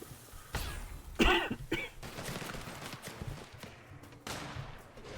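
Gunfire in The Outer Worlds video game: a few sharp shots and bursts stand out over a busy backdrop of game noise, with one loud cluster near the start and further scattered hits.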